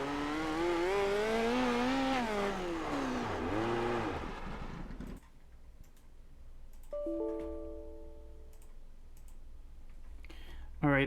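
Race car engine in the iRacing dirt video game at Kern Raceway revs with rising and falling pitch for about five seconds while pulling a wheelie, then cuts off, leaving brief clicks and short tones.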